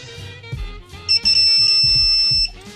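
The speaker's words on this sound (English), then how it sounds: "Steady beep means it's good." A steady, high electronic beep holds for over a second, loud and continuous, over a background of low rumbling and faint clicks, during a car plenum spacer install.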